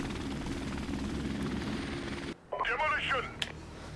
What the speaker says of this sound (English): So I wasted that heli.